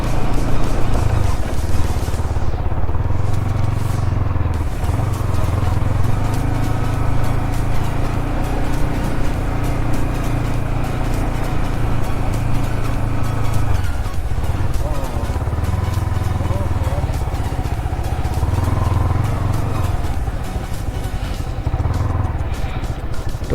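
A Yamaha R15 motorcycle rides along a hilly road, its engine droning steadily close by with wind buffeting the microphone, the engine pitch shifting slightly as the rider moves along.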